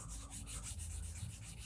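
Guitar frets are rubbed to polish off surface oxide, giving a soft, quick, rhythmic back-and-forth scrubbing. The close, steady strokes repeat several times with no talking.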